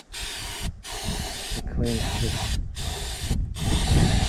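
Cleaner spray hisses in short bursts onto a pump connection on a New Holland TC45 tractor with a Shibaura N844L engine, each burst cut off by brief gaps, while someone speaks briefly over it.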